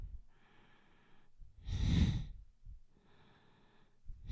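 Forceful breaths through the nose during a Kundalini yoga morning kriya, several strong exhalations with one loud, close rush in the middle and softer airy breaths around it, no talking.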